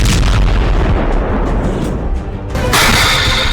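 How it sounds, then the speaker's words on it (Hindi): Anti-tank missiles fired at the Israel–Lebanon border: a loud, continuous rumbling roar of launch and blast that fills the whole stretch, briefly dipping before a sharp, brighter burst surges in near the end. "इजराइल लेबनान बॉर्डर पर दागी गई एंटी टैंक मिसाइलें देखिए। पहला फायर, टारगेट खत्म।"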